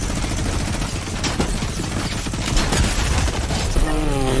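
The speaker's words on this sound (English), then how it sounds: "you could find Brutus with his Brutus's mythical minigun" Brutus's mythic minigun in Fortnite fires a continuous, dense rattle of rapid shots, loud and close throughout, with a whirring spin-down rising at the end.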